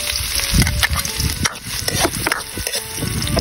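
Ginger, garlic and onion sauté in hot oil, a close crackling sizzle broken by sharp clacks and scrapes of a spatula stirring the pan.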